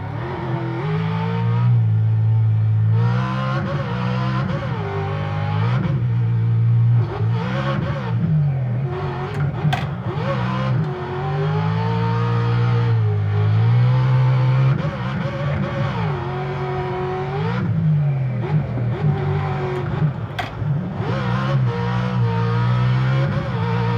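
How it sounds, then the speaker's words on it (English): Stadium Super Truck engine in a racing simulator video game revs steadily and loudly, rising and falling through gear changes with brief tire skids, continuous for the whole stretch with no talking. "Alright guys, now we're in a Stadium Super Truck."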